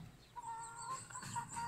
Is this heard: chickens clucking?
yes